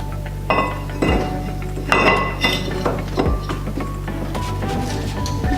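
Metal brake rotor for a rear wheel of a second-generation 1991–95 Toyota MR2 being handled and fitted, giving several sharp metallic clinks and clanks at irregular intervals, close up and with no talking.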